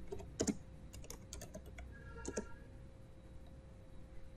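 Computer keyboard keys typed in short bursts of clicks, a few quick presses then a pause and another cluster, close and fairly quiet, during a Docker container command-line session.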